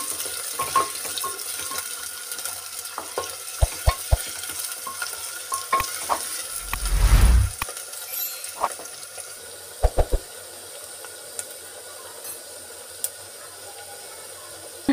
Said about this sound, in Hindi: इसमें डालेंगे प्याज प्याज को करेंगे थोड़ा लाल